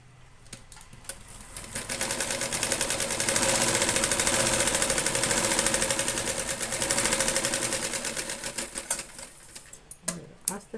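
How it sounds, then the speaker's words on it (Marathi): Sewing machine running a steady rapid stitch along the lining side of a blouse seam, rising to a continuous whir mid-run then slowing to stops near the end, fairly close and alone. "अशी अस्तरच्या साईडला आपल्याला दाब टीप द्यायची आहे"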